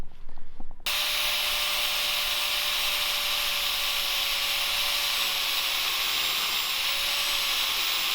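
A loud, steady abrasive grinding whine from grinding down metal while building a sheet-metal brake starts abruptly after a moment of quieter sound and continues unbroken to the end.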